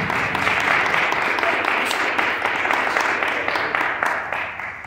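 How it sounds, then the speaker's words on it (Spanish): A concert audience greets a singer with applause, a dense wash of many hands clapping close and loud that keeps up steadily before slowly thinning and fading toward the end. "un fuerte aplauso para recibir al maestro"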